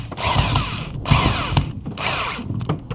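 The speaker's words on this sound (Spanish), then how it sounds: "el mismo taladro lo hemos preparado ahora para atornillar" A power drill driving screws whirs in three short bursts, each a few tenths of a second to a second long, close by, with brief pauses between, while fitting an aviary roof.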